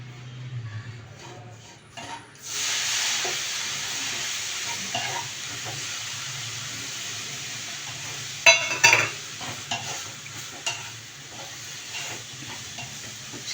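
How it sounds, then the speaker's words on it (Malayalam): A thick milk-based sweet mixture is stirred in a pan over a low flame. Soft hissing and bubbling runs throughout, broken by a few scraping knocks from the stirring utensil. "ചെറിയ തീയിൽ തന്നെ ഇളക്കണം, കളറൊന്നും മാറണ്ട."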